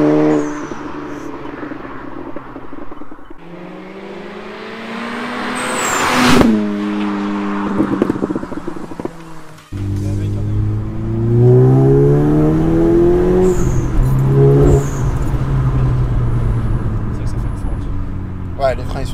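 A Seat Ibiza Cupra with stage 2+ tuning revs hard and close, its engine pitch climbing and falling in repeated sweeps over about twenty seconds while people talk inside the car.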